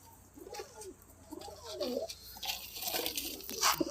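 Pigeons standing near their cage coo softly in repeated low, rolling calls. Light background noise sits around them.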